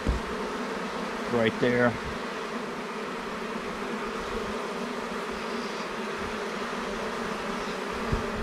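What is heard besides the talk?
honey bees buzzing around an open hive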